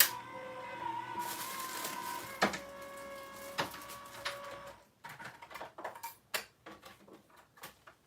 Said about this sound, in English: Vagabond electric cutting machine, and that is what I use